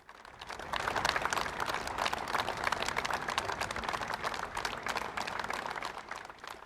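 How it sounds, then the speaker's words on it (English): Outdoor applause from a gathered crowd as a family walks to court, steady dense clapping building quickly and sustained throughout, heard at a moderate distance without speech. "This time, it was to the sound of applause."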